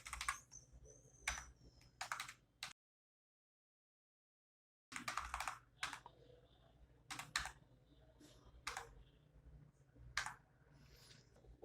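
Quiet tapping on a computer keyboard as a batch number is entered into a wholesale purchase bill, clusters of soft clicks close by, broken by a silent gap of a couple of seconds.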